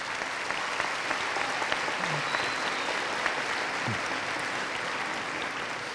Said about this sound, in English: So a round of applause for your volunteering.